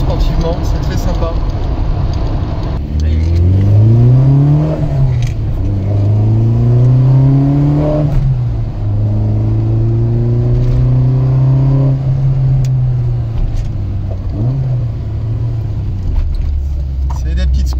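A 1600 110 hp Volkswagen Golf GTI Series 1 with a five-speed gearbox accelerates hard: a loud, close engine climbs in pitch through several gears, each upshift briefly dropping the revs before they rise again.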